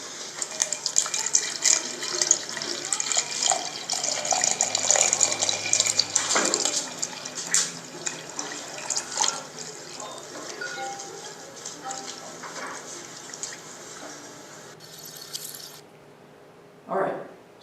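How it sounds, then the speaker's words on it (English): Water fills a beaker in a steady, splashing pour that stays fairly close and continuous, rising and falling slightly in intensity before it stops, followed by a short knock near the end. "they were filling up this beaker"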